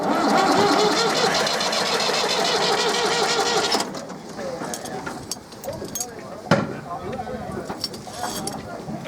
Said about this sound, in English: it starts first time on the key